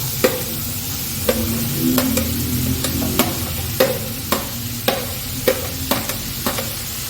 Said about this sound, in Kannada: ಇದನ್ನು ಸ್ವಲ್ಪ ಎಣ್ಣೆಯಲ್ಲಿ ಸ್ವಲ್ಪ ಚೆನ್ನಾಗಿ ಫ್ರೈ ಮಾಡಬೇಕು.